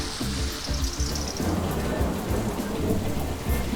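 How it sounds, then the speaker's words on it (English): Heavy rain pours down steadily in Castelfranco Veneto, Italy, with a low rumble of thunder underneath, dense and close, no voices. "It is raining quite a bit."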